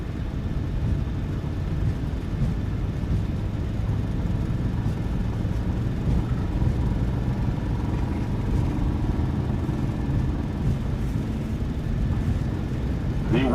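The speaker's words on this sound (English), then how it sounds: "That's a very long takeoff roll." Jet engines of a PMDG 737-800 in WestJet livery roar steadily during a long takeoff roll out of Vancouver in Microsoft Flight Simulator 2024, a constant loud rumble with faint background voices.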